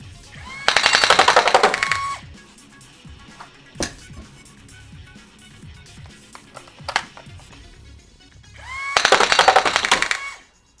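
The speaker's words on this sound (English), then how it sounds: "you want to see some full auto mag dump" An AIT Toy 40MAX Lightning Nerf blaster empties its magazine on full auto, giving two loud, rapid bursts of close mechanical firing with quiet handling clicks between them.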